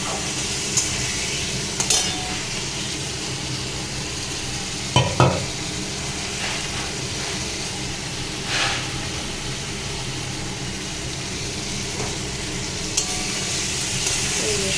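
Masala for a Bengali Katla fish curry sizzles steadily in oil while a spatula scrapes and knocks against the pan in scattered strokes, close and fairly loud, with no talking.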